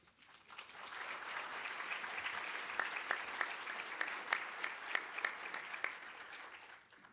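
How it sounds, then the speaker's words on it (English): An audience at a keynote presentation at an annual conference bursts into applause, which swells into a sustained wash of clapping and then fades away at the end. "by your show of applause, appreciation for her work as founder of the Federation"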